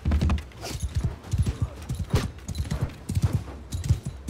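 Horse hooves clatter in rapid galloping rhythm during a battle in the video game Mount & Blade, loud and close, with sharp impact-like hits mixed in.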